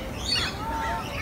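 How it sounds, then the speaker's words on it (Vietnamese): Birds in an aviary at the Aquarium of the Pacific in Long Beach give a few thin, whistling chirps over a busy, murmuring background. "hàng kia chim đây nó kêu mà"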